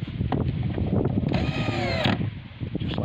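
Power drill driving screws into a wooden 8 ft chicken ark during assembly, a close whining motor burst in the middle against steady handling and outdoor noise.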